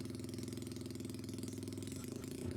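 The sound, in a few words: moped engine idling after lowering idle speed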